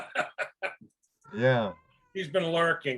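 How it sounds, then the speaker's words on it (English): A pet cat yowls loudly in a drawn-out meow near the middle, with a person talking before and after it. "pardon me while my cat yells at me"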